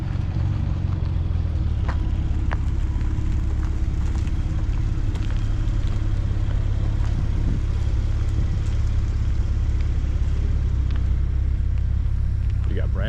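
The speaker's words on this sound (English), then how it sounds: "The Porsches are already rolling in." Porsche sports cars rolling in together to a Supercar Sunday morning meet, a steady rumbling drone of engines idling and moving nearby, with faint clicks and a voice speaking over it.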